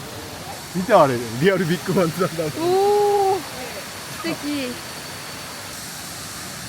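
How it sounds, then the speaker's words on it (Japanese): Kuang Si waterfall in Luang Prabang, Laos, gives a steady, soft rush of falling water that runs continuously beneath a couple of nearby voices talking and exclaiming. "ずーっと滝がある感じなんだね。"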